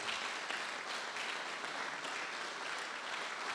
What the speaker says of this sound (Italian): Io direi di rivolgere ancora un caloroso applauso ai nostri